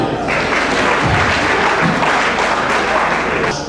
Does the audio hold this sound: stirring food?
no